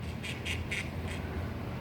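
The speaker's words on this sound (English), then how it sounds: "incoming ducks." A few raspy quacks, four or five in quick succession, sound over a steady low rumble of background noise.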